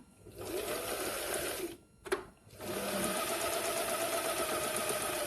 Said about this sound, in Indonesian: Setelah itu kita jahit, lalu tekan